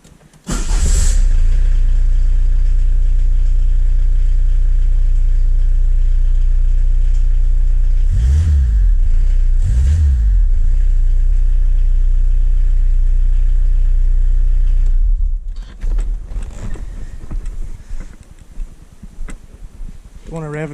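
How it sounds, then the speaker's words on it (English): A Peugeot 205 diesel turbo engine, converted and tested in a shed, cranks and fires, then settles into a loud, close, steady clatter with a couple of brief revs; it cuts off near the end as a person speaks. "we'll give it a quick start up"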